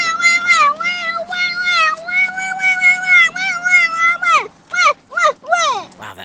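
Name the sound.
child imitating a toddler tantrum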